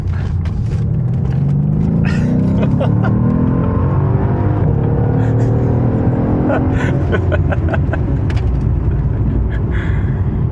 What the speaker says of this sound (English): Oh, okay, yeah, it revs up for you